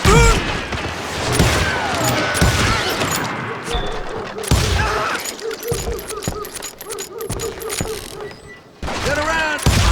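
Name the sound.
gunfire in the video game Call of Juarez: Gunslinger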